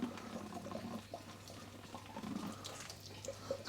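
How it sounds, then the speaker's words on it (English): A Kamoer X2SR pump discharges a steady stream of water that gurgles and splashes softly and continuously, close by, over a low mechanical hum. "we're pumping a steady stream of water"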